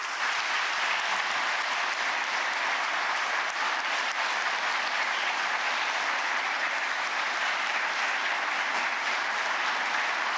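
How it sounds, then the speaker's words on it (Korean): Sustained applause from a large audience at a national policy report event in South Korea, welcoming the president as he opens the meeting; steady, dense clapping fills the whole stretch with no talk over it. "여러분 뜨거운 박수로 환영해 주십시오."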